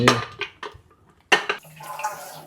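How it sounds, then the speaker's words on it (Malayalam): A child washing dishes: scattered clinks and knocks of utensils with splashes of water, irregular and fairly close, with quiet gaps between bursts. "കുഞ്ഞിന്റെ മെയിൻ പരിപാടിയാണ് ഈ പാത്രം കഴുകൽ"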